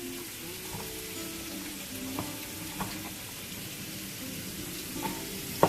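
Onion frying in a pan for home-style chicken gives a soft, steady sizzle with light crackles and a few faint knocks, moderately quiet and continuous, without talking.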